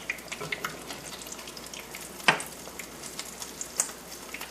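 Low-carb bacon donuts fry gently in a pan with a faint, soft sizzle and a few light clicks, plus one sharper utensil clink partway through.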